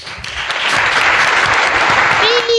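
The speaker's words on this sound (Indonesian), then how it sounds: "luar biasa lah tepuk tangan untuk Mbak Tasya." Sustained applause from a gathered audience at an Islamic boarding school event, loud and dense throughout, with a few voices mixed in and a short whistle near the end.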